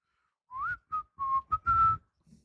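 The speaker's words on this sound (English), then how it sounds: "Blow my whistle." Five short whistled notes: a rising glide, then quick level tones and a longer held note, loud and close with pauses between them and no talking.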